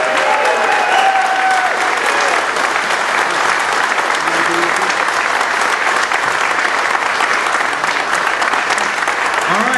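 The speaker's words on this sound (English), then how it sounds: "join me and let's give Congressman Brady another big round of applause." A crowd applauds Congressman Brady at an outdoor rally at a Houston fire station, the clapping and cheering dense and sustained at a steady level throughout, with no pause.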